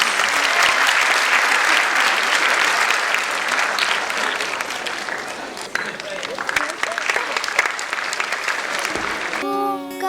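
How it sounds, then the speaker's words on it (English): Loud, sustained audience applause welcomes a school choir at an annual day event, a dense wash of clapping that thins slightly toward the end as music begins to sound. "Please welcome our choir with a big round of applause."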